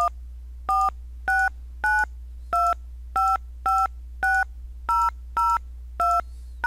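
Eleven DTMF keypad tones from a telephone keypad, dialed to enter a conference meeting number, sound as short, evenly spaced dual-pitch beeps over a steady low hum, with no speech.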